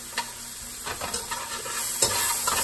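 Chopped bacon and peppers with tater tots cook in a pan, a close, steady sizzle marked by repeated soft scrapes of stirring and a sharper clink about two seconds in, with no speech.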